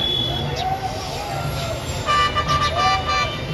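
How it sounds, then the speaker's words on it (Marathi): Vehicle horns toot repeatedly in short bursts as traffic moves through a dense crowd of pilgrims near a riverbank, over a steady background of crowd noise and engines. "त्यात गाड्या आधीमध्ये चालूच आहेत."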